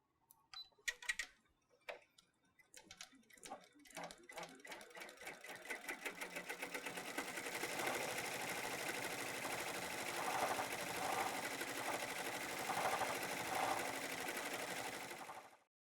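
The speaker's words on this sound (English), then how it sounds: "go ahead and start the embroidery again" Embroidery machine restarting its stitching, beginning with slow separate clicks that speed up into a dense, steady, fairly quiet mechanical rattle.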